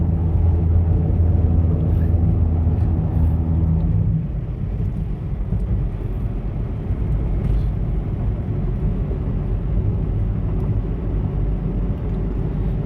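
A car drives through a tunnel, giving a continuous low engine and road rumble that drops slightly partway through and then holds steady.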